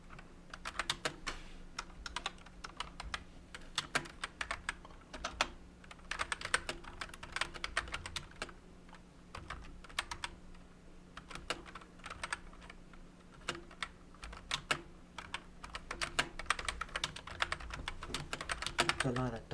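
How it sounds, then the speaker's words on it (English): Fingers type on a computer keyboard in rapid, irregular bursts of close clicks with short pauses, over a faint steady hum. "It's a lot of typing."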